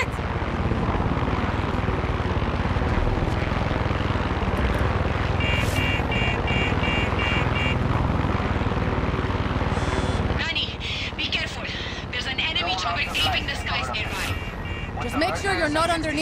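An aircraft in the Far Cry 6 video game drones loudly and steadily overhead. Game voices talk over it, then sharper electronic tones and clatter join in toward the end.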